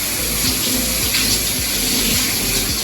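Tap water runs steadily into a sink as containers are rinsed, a loud continuous gush with faint clatter underneath and no talking.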